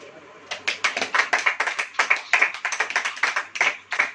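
A church congregation claps hands during a sermon, a run of quick, fairly even claps that starts after a brief pause and carries on steadily at moderate loudness, with a little crowd murmur.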